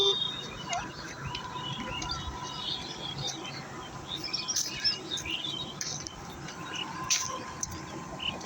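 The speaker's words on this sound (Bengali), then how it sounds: "ওই যে হাঁস," Ducks calling at a duck farm, a busy outdoor mix of quacks and chirpy calls spread steadily over constant ambient noise, with scattered louder bursts and no clear talk.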